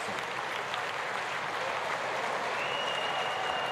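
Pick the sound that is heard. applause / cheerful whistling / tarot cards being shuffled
applause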